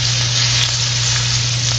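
Garlic sautéing in hot oil in a pan, a loud, dense and steady close sizzle over a low constant hum, with no voices.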